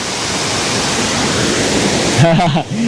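A waterfall roars loud and constant in a dense broadband rush, and a voice breaks in briefly near the end.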